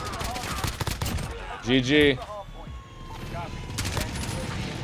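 Rapid M4A1 assault rifle gunfire in Modern Warfare, fast automatic bursts under a voice and other game sounds, mid-level and steady with a brief louder stretch in the middle.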